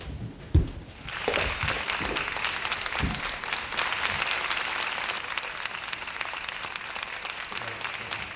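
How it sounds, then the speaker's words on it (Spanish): A television show audience bursts into strong, sustained applause to welcome a guest singer, the clapping swelling after a brief thump and continuing loud and dense to the end. "recibamos con un fuertísimo aplauso a nuestro invitado"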